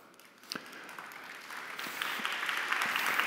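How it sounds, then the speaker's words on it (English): Applause builds gradually from a few scattered claps into steady clapping from an audience at an ArcGIS conference talk. It is fairly faint and distant. "Stop this clapping"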